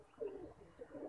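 A pigeon held in someone's hand gives soft, low cooing notes, a couple of faint murmuring calls close by in a quiet setting.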